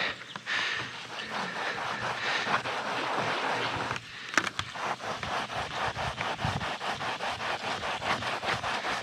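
Brush scrubbing around the perimeter of an RV roof with Dawn soap, a rapid rhythmic series of close, rough scraping strokes that continue steadily with a brief pause.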